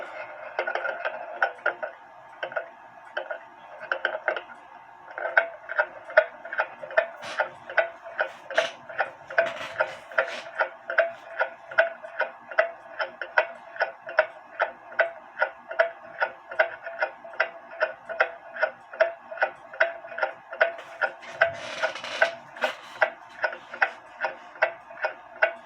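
An antique Japy Freres black slate mantel clock from the 1880s ticks steadily and evenly, a close, crisp mechanical tick-tock repeating throughout with faint handling noises in the background.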